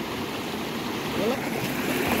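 A small river flows through a hill gorge near Darjeeling, giving a soft, continuous rushing wash of water at moderate distance, steady with a slight swell toward the end.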